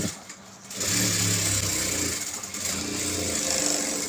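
A sewing machine stitches a fabric pencil pouch; after a short quiet start it runs with a steady mechanical whir and hum, dipping briefly midway before running on.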